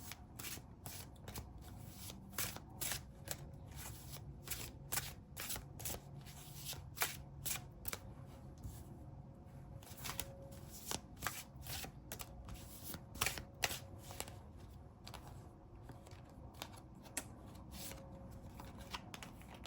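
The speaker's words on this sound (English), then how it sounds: "Let's draw some more cards." Tarot cards shuffled and drawn by hand, a long run of rapid crisp riffling flicks and soft slaps, fairly close and steady, with no talking.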